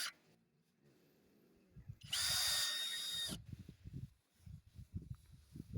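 A power drill drives screws into a wall fixture, with one loud, steady whir lasting about a second after quiet handling noises and followed by close rattling and clunking.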